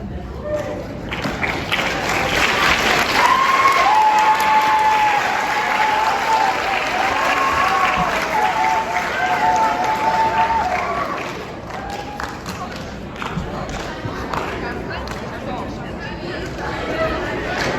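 A school audience at a seventh-grade awards celebration claps in a long, dense round of applause that swells early and then tapers, while a voice speaks over it partway through.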